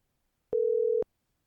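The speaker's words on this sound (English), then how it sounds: "Let me get our author on the phone." A telephone line gives a single steady electronic beep lasting about half a second, clear and isolated, with silence before and after.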